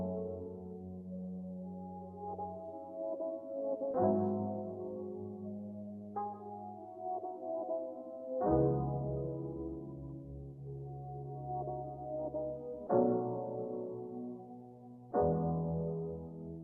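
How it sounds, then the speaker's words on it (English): Reverse-sounding analog piano sample for a smooth R&B beat, with sustained chords that swell and shift at irregular intervals, warm and mellow at a steady moderate level with no voices. "kind of like reverse sounding piano"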